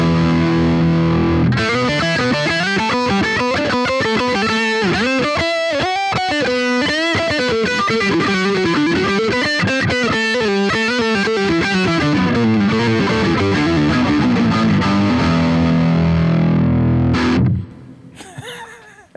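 Electric guitar played through a Boss GT-1000 effects processor, loud, distorted and effects-laden, with fast melodic lead lines running continuously before cutting off near the end into a short noisy tail.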